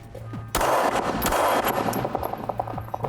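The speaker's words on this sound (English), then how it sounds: "2 controlled shots." Two sharp, loud pistol shots fired at a target in a controlled pair on a shooting range, close by, followed by fading reverberation.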